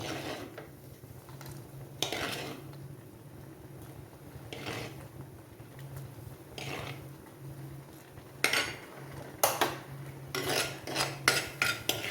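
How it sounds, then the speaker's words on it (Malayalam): Cooked drumsticks being dropped into a pot of sambar made without dal, heard as sparse metallic clinks and scrapes of utensil on pot, faint at first and then a denser cluster of knocks near the end, with no talking. "ഇനി ഇതിലേക്ക് നമുക്ക് നമ്മൾ വേവിച്ച് വെച്ചിരിക്കുന്ന മുരിങ്ങക്കോല് ഇട്ട് കൊടുക്കാം."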